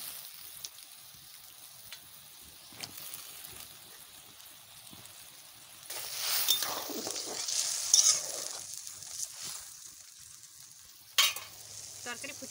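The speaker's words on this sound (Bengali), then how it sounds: "এবারে আমি কচুর ডাগা দিয়ে দিচ্ছি।" Taro stalks go into a simmering fish curry and are stirred, giving a burst of wet sizzling and scraping stir strokes midway, then quieter bubbling with another brief clatter near the end.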